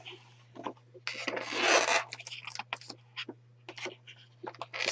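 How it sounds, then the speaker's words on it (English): Creaking and rubbing from the spine of a coloring book as pages are turned, a series of short scratchy bursts with one longer rasp, close and quiet over a low steady hum. "Sorry for the noise, but that's the spine when I'm turning the pages."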